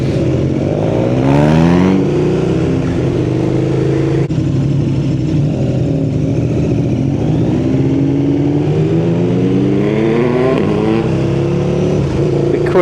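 Loud Yamaha MT-09 or KTM Super Duke engine roaring steadily close by, with rising and falling revs across the whole stretch.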